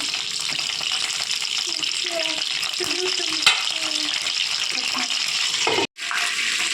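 Thick pieces of eggplant frying in oil in a pan, a loud continuous sizzle with occasional clatter and stirring, briefly cutting out near the end.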